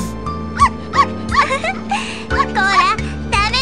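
An excited dog barks in the dating-sim video game Sentimental Graffiti 2, a run of short, high, yappy barks close up, with voices talking over and between them.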